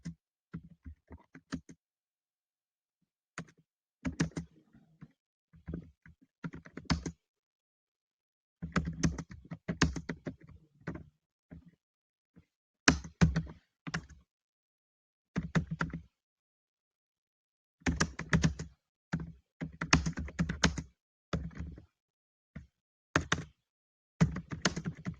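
Someone types on a computer keyboard in irregular bursts of quick key clicks and thunks, separated by short silent pauses, close and fairly quiet.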